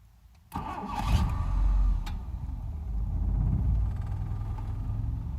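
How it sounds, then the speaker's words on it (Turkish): A car engine with an idle problem cranks and catches abruptly after a brief quiet moment, then idles loudly and unevenly, with its low rumble swelling and sagging irregularly. "aracımızı çalıştıralım"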